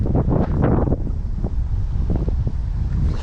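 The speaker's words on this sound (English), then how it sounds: "Probably can't hear it in the wind anyway." Gusty wind buffets the microphone on a windy night of salmon fishing, with loud irregular bursts of low roaring rumble that rise and fall, and no voices.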